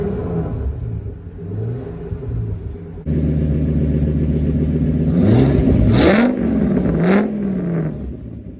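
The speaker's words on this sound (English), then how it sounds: "Gonna rev it up a few times" A Ford F350 V10 dually truck with a newly fixed exhaust idles with a deep, steady rumble, then revs up several times in rising and falling sweeps, loud and close.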